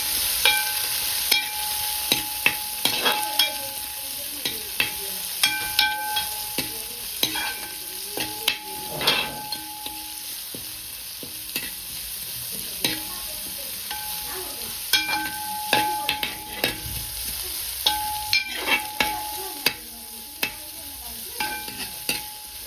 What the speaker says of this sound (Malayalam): സവാളയും കൂടെ ഇട്ടിട്ടുണ്ട്, എല്ലാം കൂടെ നന്നായിട്ട് ഇളക്കാം.